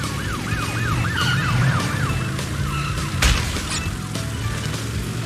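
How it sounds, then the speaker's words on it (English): Police car sirens wail in repeated rising and falling sweeps in the Crash Bandicoot 3 video game, loud and near over busy game music and effects, with a sharp crash partway through. "now the police cars are actually moving"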